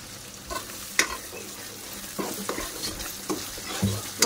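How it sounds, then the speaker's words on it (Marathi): Masala for misal fries in a pan with a soft continuous sizzle, broken by several sharp scraping taps as it is stirred, close and fairly quiet. "मसाला छान परतून घेऊयात आपण"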